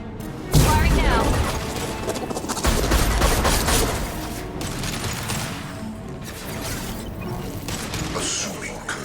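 Mass Effect 2 weapon fire blasts out in a loud opening shot, followed by rumbling mechanical clatter and crashing impacts, with voices talking over parts of it.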